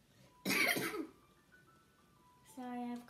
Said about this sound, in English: Sorry, I have coughs.